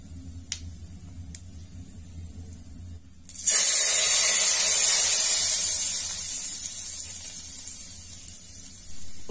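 Mustard oil tadka with white cumin and whole red chilies bursts into a loud, steady sizzle a few seconds in, fading slightly as it continues after a quieter start.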